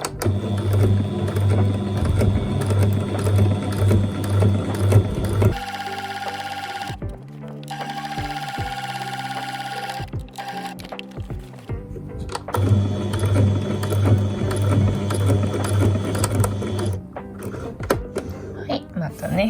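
A sewing machine stitches a straight seam on an adult cafe apron, whirring in two long close runs separated by a quieter stretch of handling and faint tones, with someone talking over the machine.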